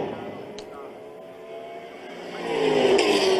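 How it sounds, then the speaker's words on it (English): A supercharged race car in a 2012 SuperStars Series round at Monza whines faintly in the distance, then swells louder near the end as it approaches, under a commentator's continuous talk. "The whine of the supercharger, way down the straight, then as it goes past, and everything drops 15 octaves into a low bass"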